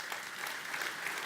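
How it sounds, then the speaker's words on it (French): A church congregation applauds steadily, a dense continuous patter of many hands clapping at an even level throughout, with no voices standing out. "Merci à vous pour vos acclamations."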